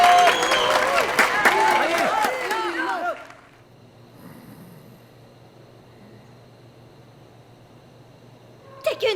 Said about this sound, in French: Merci beaucoup pour vos applaudissements.